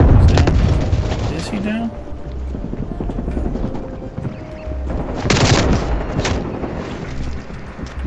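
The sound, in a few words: gunfire in Call of Duty Black Ops Cold War video game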